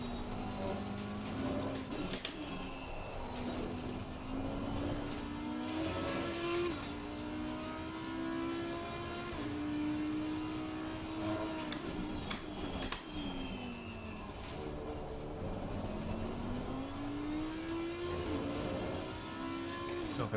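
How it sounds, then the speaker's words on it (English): Ferrari GT3 race car in Assetto Corsa Competizione at Suzuka, its engine rising repeatedly through the gears with sharp upshift breaks, accompanied by other cars' engines and a few clicks and thumps. "I think the Ferrari's got good acceleration out of the hairpin."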